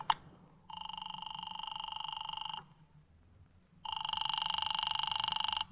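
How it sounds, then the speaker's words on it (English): A telephone rings in an old radio drama, two long electronic rings separated by a pause, loud and close, with a low hum underneath. "Oh, Walt, do you mind if I use your phone?"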